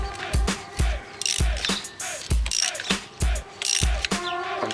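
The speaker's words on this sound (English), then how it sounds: "I'm tightening that big nut" A wrench tightens the big nut on a pulley puller while a power steering pump pulley is installed, giving loud, close ratcheting clicks in regular bursts of several strokes each, without talking.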